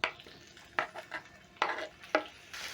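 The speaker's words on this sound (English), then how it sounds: "Transfer my meat in the pan." Meat goes into a pan of hot cooking oil over medium heat: a soft sizzle runs under a handful of sharp scrapes and clatters from a utensil against the pan, close up and without talk.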